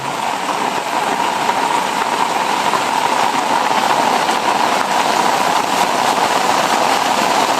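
Heavy rain pours down hard and steadily on open farm fields, a loud, dense, unbroken roar of drops striking surfaces close by.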